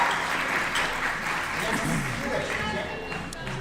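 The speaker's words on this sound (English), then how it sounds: "I hear a bunch of clapping" An audience claps at a weightlifting competition after a lift, a broad wash of applause with crowd murmur mixed in. It stays fairly steady and moderately loud, then eases slightly near the end.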